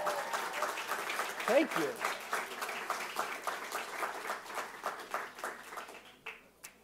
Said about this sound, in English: One more round of applause for the swarm.